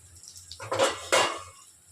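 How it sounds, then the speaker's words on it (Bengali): A metal lid is lifted off a pan of frying potatoes in a home kitchen, two short bright clanks of lid against pan over a soft background sizzle, close and clear with no talking. "এবারে আমি ঢাকাটা সরিয়ে দেখে নিচ্ছি যে আলুগুলো ভাজা হয়েছে কিনা"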